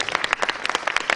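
Conference audience claps in a brisk burst of applause, many hands striking in a dense, slightly uneven patter that sounds fairly close and fills the short moment.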